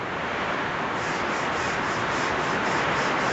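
Wire brush buffing the face of an anvil made from railway track, a loud continuous close-up rasping scrub with faint rhythmic strokes.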